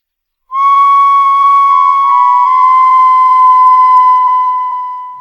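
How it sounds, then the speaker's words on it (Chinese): A whistle is blown in one long, loud, shrill note that holds steady for about five seconds before tapering slightly, with no talk. "这个哨子吹出来的声音"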